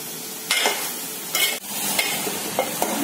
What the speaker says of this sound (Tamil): கத்திரிக்காய் நல்லா வதக்கிக்கணும்.